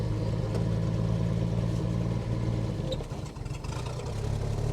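A 1949 Chevrolet Deluxe idles steadily with no throttle, a low, even, close-up rumble with a brief dip in the middle before it evens out again.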